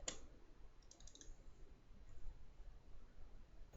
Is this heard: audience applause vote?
no